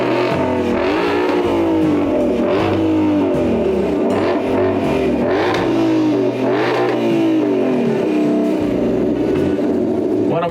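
Engine of the most powerful production Ford sports car revving repeatedly at a car showcase, loud close bursts rising and falling in a rhythmic series of blips, alone without talk.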